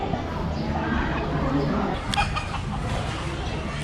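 Chickens clucking amid a busy roadside market din in Xaiphouthong, Savannakhet, Laos, with people talking nearby throughout.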